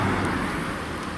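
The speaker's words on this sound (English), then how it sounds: "Oh, it's raining. Do y'all hear it?" Steady rain falling outdoors, a dense continuous patter and hiss close by, fairly loud and unbroken throughout, with no voices.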